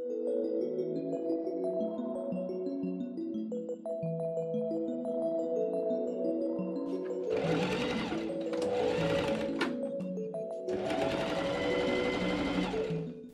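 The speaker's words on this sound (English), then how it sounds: "I pin and machine sew the back facing to the back piece." A sewing machine stitches a linen dress facing to the back piece. Its motor hums steadily throughout, with louder bursts of fast stitching in several runs near the end, close and clear.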